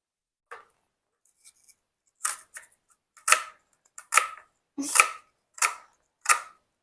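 A knife cuts through an onion in a home kitchen, with about eight or nine crisp, close chopping strikes at an uneven pace and short silences between them.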